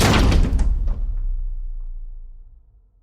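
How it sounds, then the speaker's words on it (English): A single heavy door slam with a loud impact that rings out and slowly fades into a low rumbling decay. "She slammed the door so hard, a picture frame fell off the wall, shattered on the ground."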